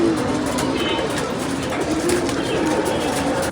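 Racing pigeons coo repeatedly as they land at their loft, soft throaty calls layered together over a constant noisy background of outdoor commotion and rustling.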